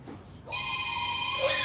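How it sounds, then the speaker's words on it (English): A telephone starts ringing for an incoming call after a brief quiet moment, a steady, sustained electronic ring tone held close and fairly loud to the end, with no talking. "1 second, getting a phone call."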